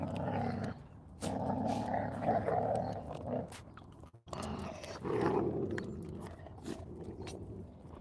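A dog growls and snarls in rough, rumbling bursts that come in several long stretches separated by short pauses, fairly close and loud, with no talk over them.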